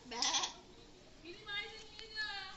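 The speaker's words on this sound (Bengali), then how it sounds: "ছাগল" Goat bleating nearby in a couple of wavering calls, with voices talking around it.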